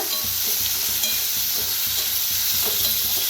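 Potatoes fry in hot oil with a loud, close, continuous sizzle, overlaid by low rhythmic scraping as they are stirred. No one speaks.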